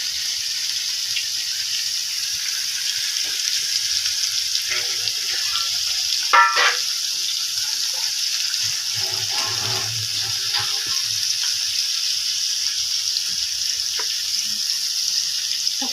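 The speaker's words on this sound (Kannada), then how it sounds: "fish fry" Fish frying in oil, a faint steady sizzle under a constant high hiss, broken by a brief sharp crackle and a few soft stirring or handling sounds in a quiet kitchen.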